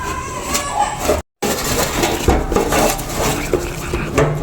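Gulab jamun ingredients are mixed in a bowl, with steady clinking and scraping of a utensil against the dish throughout and one brief dropout near the start, with no voices.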